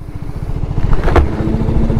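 Motorcycles idling and moving slowly into a parking spot on a morning ride, a close, loud, throbbing engine rumble with a rapid pulsing beat and a brief rev in the middle.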